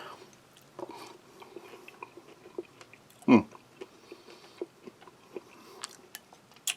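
Soft, irregular crunches of salted crackers being chewed with army kosher ration New Orleans gumbo with chicken, quiet and close, with one louder crunch partway through.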